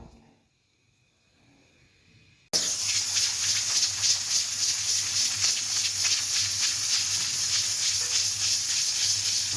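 A pressure cooker whistle hissing steadily over chicken feet cooking on the stove. After a quiet moment it bursts in suddenly as a loud, continuous steam hiss with faint rhythmic pulsing that runs to the end.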